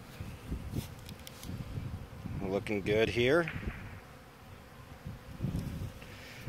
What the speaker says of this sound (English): It's been a long time since I've seen my bees out flying around.